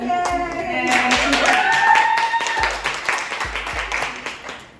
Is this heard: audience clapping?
yes